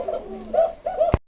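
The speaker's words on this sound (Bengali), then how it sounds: "এই যে ডাকতেছে কুকা" Pigeons cooing in a pigeon loft at a breeding farm: a few soft, close, throaty coos in quick succession, ending with a brief sharp knock.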